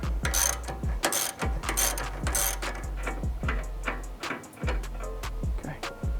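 Rapid ratchet clicks from a wrench loosening a suspension bolt held under spring tension on a 2020+ BMW M2 (G87), in steady bursts with brief pauses, close and fairly loud, no talking.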